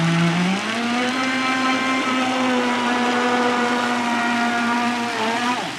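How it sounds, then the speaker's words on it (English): A vintage RC boat with a LiPo battery runs on water, its small electric motor giving a steady, buzzing whine that holds a constant pitch and then drops briefly near the end, close and loud. "It sounds like a real boat."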